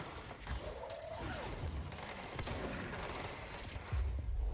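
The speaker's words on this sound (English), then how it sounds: "this is essentially a slug shotgun now" A slug-loaded shotgun fires in Control, giving a few sharp, punchy blasts amid whooshing action noise, fairly quiet overall and without talk.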